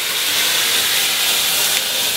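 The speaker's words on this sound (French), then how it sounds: "Je déglace d'un peu d'eau. Je fais réduire." A hot pan being deglazed with water for steak au poivre gives off a steady, loud hiss of steam and sizzle that holds unbroken and alone for the whole stretch.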